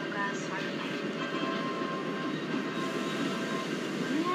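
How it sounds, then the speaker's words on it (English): Express train crossing in Microsoft Train Simulator, a Haridwar Udaipur City Express hauled by a WDP4D diesel locomotive on the Mewar route: a steady, loud rolling rumble of wheels and carriages that continues unbroken throughout. "Enjoy the crossing of Haridwar Udaipur City Express."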